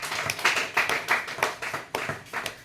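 Rhythmic hand clapping from a church congregation during a worship testimony, roughly a dozen sharp, evenly spaced claps close by with no voices over them.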